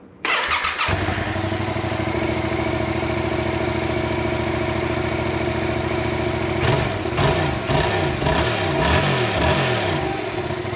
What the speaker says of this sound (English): the stock exhaust sounds terrible